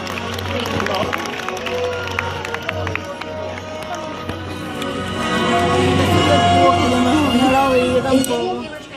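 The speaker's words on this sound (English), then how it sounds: "Have a round of applause for Olympus and Lila." Theme-park animal show audience applauds trained birds, a swelling wash of clapping and crowd noise that grows louder in the second half, with voices talking over it.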